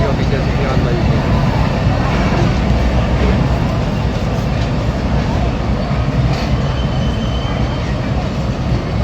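Fast trains passing at Muridke railway station in Pakistan: a loud, continuous roar of rolling carriages that holds steady for about nine seconds, with voices mixed in underneath.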